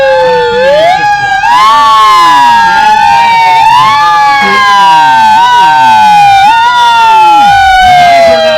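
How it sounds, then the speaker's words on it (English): An emergency vehicle siren blared through a loudspeaker system at a town parade, very loud and continuous, with wailing tones sweeping up and down and layered yelp patterns throughout. "How does a siren sound on a PA system?"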